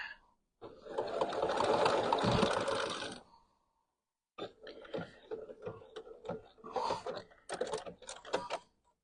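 A sewing machine stitches a quilt in a long continuous burst, pauses, then runs in a string of short, stop-start bursts, close and fairly loud with no talk over it.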